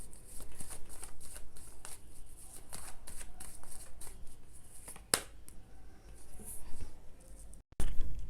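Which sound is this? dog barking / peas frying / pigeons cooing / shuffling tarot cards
shuffling tarot cards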